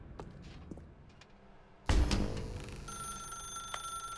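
A telephone rings in The Stanley Parable video game: a sudden loud clang that settles into a sustained ringing bell, after some quiet background knocks.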